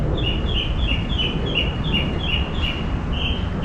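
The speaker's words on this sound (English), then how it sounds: "Oh, listen to the birds." A bird calls repeatedly in quick, evenly spaced chirping notes at a cemetery in Doral, Florida, over a steady low background rumble, with no talking.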